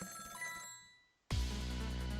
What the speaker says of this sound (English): A telephone.